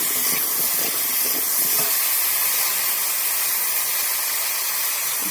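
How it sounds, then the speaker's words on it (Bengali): Vegetables fry in a hot pan, giving a loud, dense and continuous hiss that holds steady throughout, with a few soft knocks early on. "আর একটু ভালো করে ভেজে নেব।"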